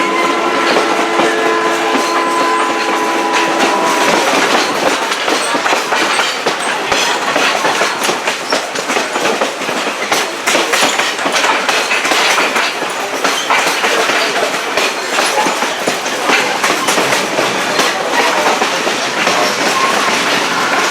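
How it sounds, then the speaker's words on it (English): A train hauled by a working locomotive on an excursion railroad rolls along the track, with rhythmic clickety-clack of wheels over rail joints and a steady loud rumble sustained throughout, no voices. "The actual locomotive itself doing all the work."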